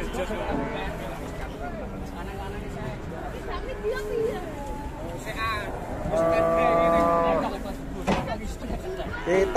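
Cattle at the Pasar Wage livestock market in Margorejo, Pati, moo in drawn-out calls amid the steady hubbub of the crowd, with one long, loud low from a nearby animal and people talking throughout.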